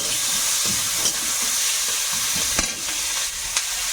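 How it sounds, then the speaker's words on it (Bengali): Whole cumin seeds and chopped onion sizzle loudly in hot oil, a steady close frying hiss with occasional stirring scrapes and no talk. "তেলের মধ্যে একটু গোটা জিরে আর পেঁয়াজ কুচি দেবো"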